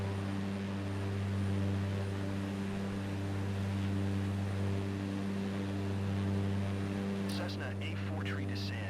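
A Cessna propeller plane engine drones inside Microsoft Flight Simulator 2024, a steady low hum with stacked harmonic tones throughout, joined by a radio voice near the end.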